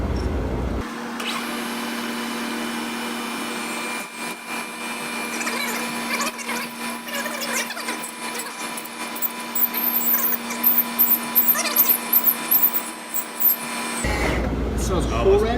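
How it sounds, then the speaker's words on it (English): A woodruff key cutter drills and plunges a slot with a steady, loud machine whine and hum. Scratchy cutting chatter builds toward the end, then the motor cuts off abruptly. "we're going to drill it out and use a woodruff key cutter to just plunge in"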